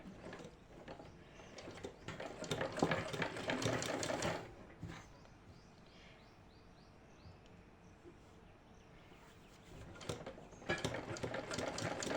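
Sewing machine stitching a piece of cloth onto a shirt collar, running in a loud mechanical whir for several seconds, pausing to a quiet hum, then starting up again near the end.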